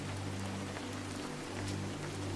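Soft, steady rainfall over a quiet seaside town at night, an even pattering hiss that never lets up, with a low constant hum underneath and no voices.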